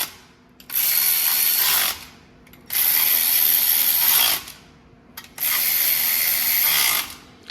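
A torque wrench set to 10 foot-pounds ratchets loudly and close by in three long bursts separated by short pauses while tightening intake manifold bolts.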